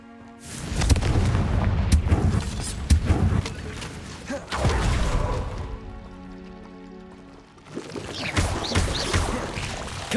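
Confringo fire spell blasts in Hogwarts Legacy, several loud booming bursts with crackling, roaring tails, separated by brief quieter stretches with ringing tones, no speech.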